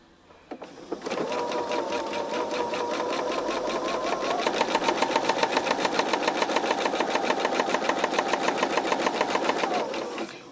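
A sewing machine top stitching a quilt square, running at a fast, even rhythmic chatter for about nine seconds after a brief start, close and clear with no talking.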